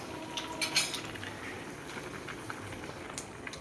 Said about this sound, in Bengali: এই দেখো, তেজপাতা আর শুকনো লঙ্কা ফোড়ন দিলাম, 5 ফোড়ন দিয়ে দিলাম